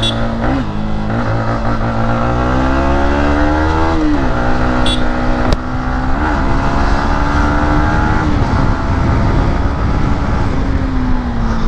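Yamaha MT 15 motorcycle engine revving steadily while being ridden, a loud continuous drone with rising and falling pitch sweeps as it accelerates and shifts, no voices over it.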